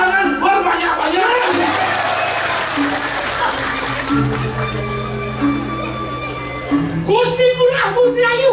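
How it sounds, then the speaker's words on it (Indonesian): An audience at a Balinese drama gong comedy performance claps many times, a dense sustained round of applause and crowd noise under voices and gamelan-like tones, swelling again near the end. "Tepuk tangan berbanyak-banyak."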